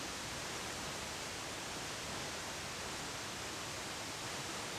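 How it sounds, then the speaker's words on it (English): A waterfall in the Atherton Tablelands rainforest of Australia pounds down steadily, producing a dense, unbroken broadband roar at low level with no other sounds on top. "get the waterfall as it's pounding down"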